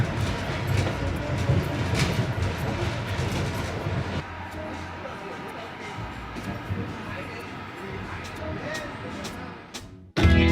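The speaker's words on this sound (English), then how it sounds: "we just pulled up at another train station" A train interior on a long-distance rail journey in Vietnam, with a continuous rumbling and rattling of the carriages while voices murmur. The noise eases as the train slows, then a loud jolt comes at the end.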